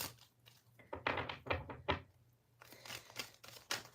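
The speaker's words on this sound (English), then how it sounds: "I feel like I need to do a shuffle here." Tarot cards are shuffled in quick, soft riffling bursts close by, papery flutters and light taps repeating at a quiet level.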